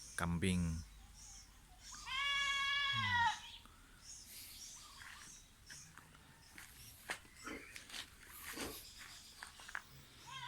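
Goats on a farm give a clear wavering bleat, with a shorter one just before it, then footsteps and scattered knocks and rustling follow.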